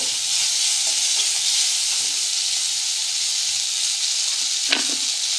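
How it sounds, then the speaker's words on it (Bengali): Neem leaves fry in hot oil with a loud, steady sizzle and hiss that fills the whole stretch close up, with one brief sharper crackle near the end. "নিম পাতাটা দিয়ে খুব ভালো করে ভেজে নেব"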